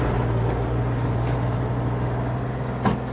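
A 2024 Bobcat E35R2 mini excavator swings with its engine running in a steady, close drone, a short sharp burst standing out near the end.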